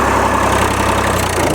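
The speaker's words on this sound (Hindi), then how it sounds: "अब तीसरे के लो में चल रहा है भाई ट्रैक्टर" A Swaraj 735 tractor engine runs steadily in third gear low at about 1400–1500 rpm, pulling a sugarcane weeder in a field. The loud, close diesel throb holds constant, with no voices.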